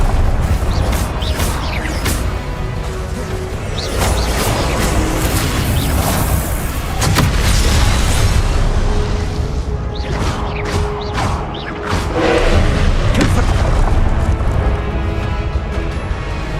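Confringo blasting spells exploding in Hogwarts Legacy combat, loud continuous booms, crashes and whooshes layered densely over one another with hardly a pause, and a voice occasionally heard beneath.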